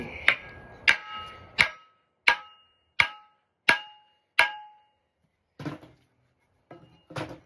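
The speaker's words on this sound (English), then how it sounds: "So now I'm gonna use a ball peen hammer to" A ball peen hammer strikes an axe handle in seven evenly spaced, ringing taps about two-thirds of a second apart, each sharp and close with a short decay, followed by quieter scraping knocks.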